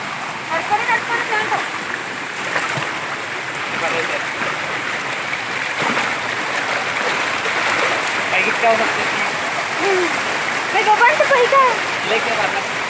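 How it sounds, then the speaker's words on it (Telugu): Rampa Waterfalls flowing, a steady broadband rush of falling water that fills the whole clip, with people talking over it now and then. "సో చూసారు కదా ఫ్రెండ్స్, మరి రంప వాటర్ ఫాల్స్"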